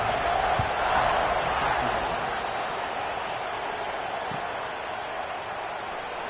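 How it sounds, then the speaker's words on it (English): Football stadium crowd at a Notre Dame game buzzing after a score and extra point, a dense, steady roar of many voices that holds at a fairly even level throughout, with a couple of faint thuds underneath. "this crowd is buzzing after that last score"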